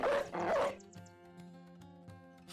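A dog in the video game Battle Brothers gives a couple of sharp yelping barks up front, followed by trailing tonal game sounds and a few faint later clicks, fairly close and clear.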